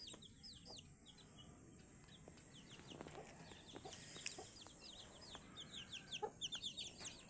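A mother hen with her chicks, soft clucks and many high, rapid peeps from the chicks scattered over a steady background, close and fairly quiet, growing busier toward the end.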